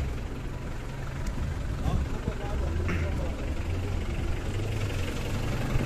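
A truck engine idles with a low, steady rumble, while people talk nearby over it.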